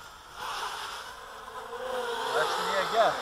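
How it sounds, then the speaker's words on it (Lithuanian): Grasshoppers make a continuous buzzing drone that swells slightly toward the end, with a faint voice briefly in the background. "kiek čia jūsų žiogų"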